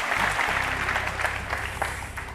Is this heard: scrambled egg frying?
no